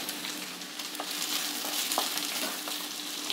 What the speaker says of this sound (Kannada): ಕರಿಬೇವಿನ ಸೊಪ್ಪು ಹಾಕ್ತಾಯಿದ್ದೀನಿ.